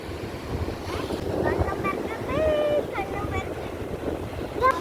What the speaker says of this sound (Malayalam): ഷാനു നമ്മൾ കടലിനെ ദേഷ്യം പിടിപ്പിക്കാം